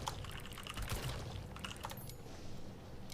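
Keyboard typing during an online game, used to type into the in-game chat: soft, scattered key clicks at a quiet level over a low background hum.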